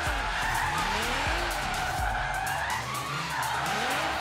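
A rear-wheel-drive Nissan GT-R R35 drifts in Forza Horizon 3, tires squealing continuously with rising and falling pitch over a loud, steady engine roar throughout.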